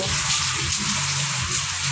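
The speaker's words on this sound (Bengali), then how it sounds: "আপনাদেরকে দেখাচ্ছি আমাদের এখানকে কী বৃষ্টি হচ্ছে দেখুন বাইরে হাওয়াটাও হচ্ছে ভীষণ" Heavy rain and strong wind in the Andaman Islands, heard near the sea as a steady, loud wash of rainfall with a low rumbling gust underneath, continuous and unbroken.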